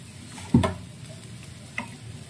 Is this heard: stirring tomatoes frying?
yes